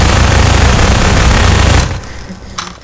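Sustained rapid automatic gunfire in Garry's Mod, a loud dense fusillade that runs for about two seconds and then cuts off, leaving quieter scattered shots and noise.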